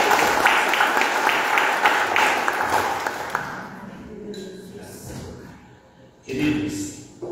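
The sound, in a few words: audience applause for the pastor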